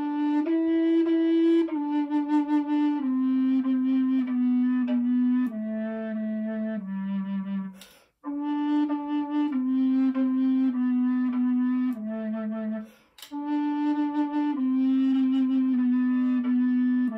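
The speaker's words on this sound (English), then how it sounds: "So here is the sound of the bass recorder." A bass recorder plays a slow, low melody alone, each sustained, breathy, reedy note held steadily, with two brief pauses between phrases.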